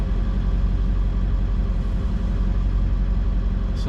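A 7.3 Powerstroke diesel truck engine spooling up with a wheel breaking loose, giving a loud, continuous low rumbling roar that holds steady throughout without any speech.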